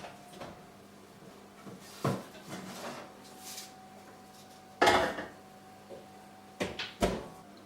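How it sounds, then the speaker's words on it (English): Tray of golden-brown golden syrup sugar cookies taken out of a home oven, with a few sharp metallic clanks and a door-like thump spaced apart over a steady low hum, nearby and fairly quiet. "We have to remove it from the oven"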